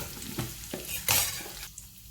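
Curry leaves crackle in hot tempering oil with mustard seeds and cumin over a low flame, a few sharp sizzling bursts and one louder spatter rising from quiet frying, with light stirring between.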